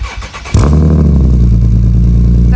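A 2011 Infiniti G37 sedan fitted with a new cat-back exhaust fires up abruptly after a brief crank, settling into a loud, deep, steady idle rumble close by.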